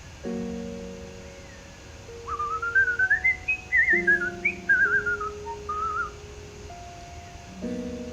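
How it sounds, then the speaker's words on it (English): A short, lilting whistled melody from the video game Date Everything, clear and close over soft sustained background tones, rising and falling in quick phrases. "I hate how familiar a lot of those little whistle tunes sound."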